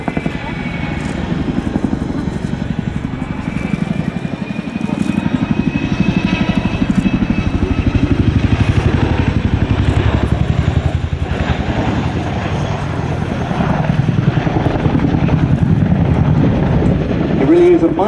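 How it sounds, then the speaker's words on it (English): A Boeing CH-47 Chinook helicopter makes a display pass, its rotors producing a loud, steady thudding drone throughout while a commentator talks over it. "It really is a mighty machine, the Chinook."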